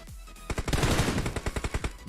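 Rapid automatic gunfire in the battle royale game PUBG Mobile during a tournament match, a fast string of close, punchy shots with no one talking.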